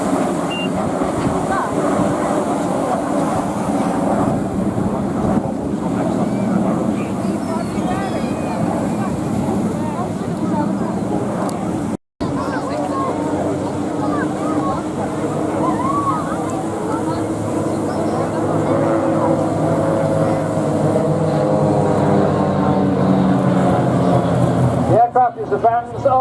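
A Vans RV light aircraft with a 180 hp piston engine flies at the Blackpool Air Show, giving a loud, steady broadband engine drone mixed with wind noise that continues throughout and swells near the end.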